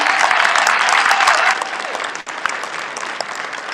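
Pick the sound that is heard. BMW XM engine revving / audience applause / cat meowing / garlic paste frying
audience applause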